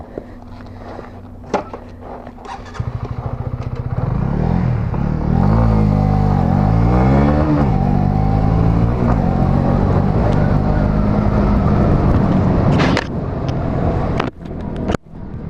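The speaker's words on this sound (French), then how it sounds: "Allez, go pour la CB 125R" A Honda CB 125R motorcycle pulls away and accelerates, its engine note climbing in repeated rising sweeps through the gears, loud and close, after a few seconds of quiet idle and clatter, then easing off near the end.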